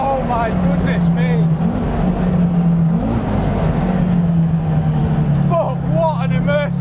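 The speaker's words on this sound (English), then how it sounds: "That engine, it's so strong." Audi Quattro S1 Group B rally car engine droning loud and steady from inside the car, its tone rising and falling with throttle while people talk over it.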